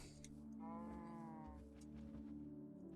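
A cow in the video game TerraFirmaCraft gives one drawn-out, wavering moo, heard clearly over a low steady background hum.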